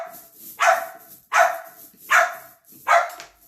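A dog barks four times at a steady, evenly spaced rhythm, each bark loud and close with a hoarse, drawn-out edge.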